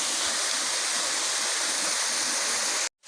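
A waterfall roars in a broad, steady rush of falling water, loud and close, filling the whole scene before cutting off abruptly near the end.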